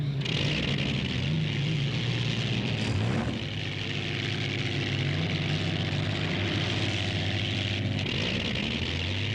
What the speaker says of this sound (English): Other boats thunder out of the pits for their practice and qualifying laps.